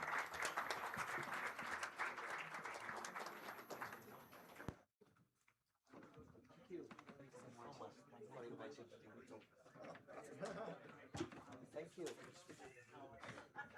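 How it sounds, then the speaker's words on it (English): Audience applause for panelists at the close of an India–Japan AI partnership event, a dense sustained clapping for several seconds that cuts off, then a hall returns with scattered murmuring voices and a few lingering claps. "please give them a round of applause"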